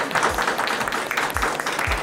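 An audience at a high school debate competition awards ceremony applauding, a dense, steady patter of clapping that stays fairly loud throughout the short stretch.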